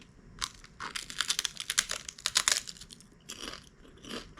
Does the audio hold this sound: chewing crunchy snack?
yes